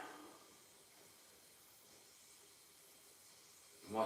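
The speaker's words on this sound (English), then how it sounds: "Sizzling away the old water with the vinegar in it." Old water with vinegar sizzling on the heat, a faint, steady, airy hiss that continues alone throughout, with a brief louder rustle at the very end.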